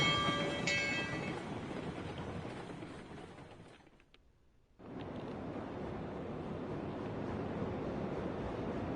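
A locomotive hauling a train at Silverton in the Railroads Online video game, giving a steady, broad rumbling roar that drops to near silence for about a second midway and then resumes, with a brief tonal whistle near the start.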